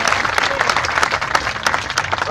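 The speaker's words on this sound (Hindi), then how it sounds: "तो सबसे ज्यादा तालियां उन्होंने बजाई है।" A crowd at a protest sit-in claps steadily in dense, continuous applause, close and loud throughout, with a few voices faintly underneath.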